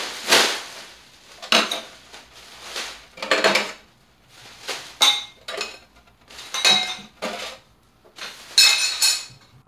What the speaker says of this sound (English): I took care of the dirty dishes.